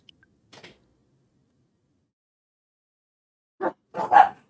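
A dog barks once faintly, then after a pause gives a quick pair of louder barks, close by in an otherwise quiet indoor room.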